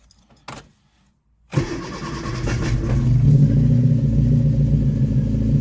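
A rebuilt A-series car engine fires up with the choke out: a brief quiet crank, then it catches and settles into a loud, steady, rumbling idle that grows slightly richer as it runs.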